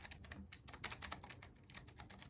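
Steady close-up typing on a Keychron mechanical keyboard fitted with brown switches, a quick series of crisp keystrokes in uneven bursts, slightly softer than clicky switches, with no talking.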